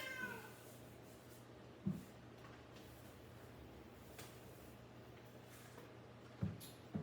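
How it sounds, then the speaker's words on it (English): Two short meows stand out against quiet room hiss, one early and one a few seconds later, with a faint clipped call at the very end. "Why you gotta interrupt my video with your loud meow?"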